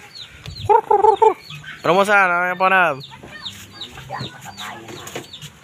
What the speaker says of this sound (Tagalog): may mga manok dyan.